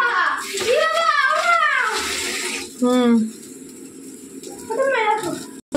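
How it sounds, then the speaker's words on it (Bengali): Water splashes and runs while a bowl is washed by hand at a kitchen tap, the pouring continuous and close, with someone talking over it throughout. "বাটিটা ধুয়ে দেখো দিয়ে দিলাম"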